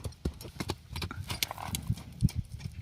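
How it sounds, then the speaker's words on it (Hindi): A calm, tall mare walks with clip-clopping hooves, a steady uneven rhythm of close hoof strikes with scattered knocks and shuffles around them, no speech. "बहुत बढ़िया घोड़ी, हाइट भी बढ़िया है और शांत भी।"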